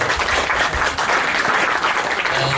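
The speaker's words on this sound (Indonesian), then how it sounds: "Tepuk tangan untuk Bang Tigor." A seminar audience claps together in dense, steady applause filling the room for a few seconds, loud and close, with no speech over it.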